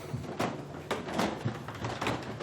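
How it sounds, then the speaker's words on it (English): Creaky stairs in an old veterans' memorial hall groan and thump with irregular footfalls, a series of muffled knocks and creaks heard close by. "You guys hear how creaky those stairs are?"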